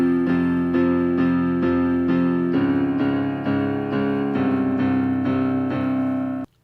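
Keyboard playing a song in octaves with added perfect fifths, a steady, loud run of evenly repeated chords with no talking.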